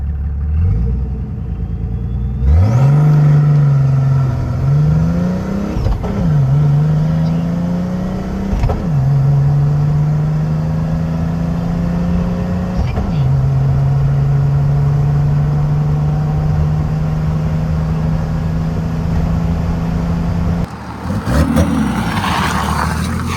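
A turbocharged OM603 diesel car engine revs as the clutch is feathered for a gentle launch, a loud close droning roar that climbs and dips through several gear-like swells before easing off near the end.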